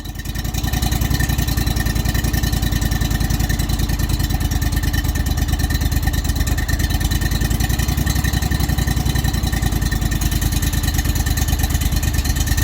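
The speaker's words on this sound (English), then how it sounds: "Sounds like a way happier engine." A Splitfire 4024 woodchipper engine idles steadily under its governor, a loud, close, even mechanical drone with a fast regular pulse and no change in pace.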